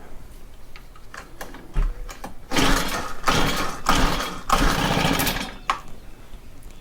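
Honda FG110 tiller with a no-idle, bogging fault being started after priming: scattered clicks, then several close, loud sputtering engine bursts in quick succession that fade out without settling into a steady run.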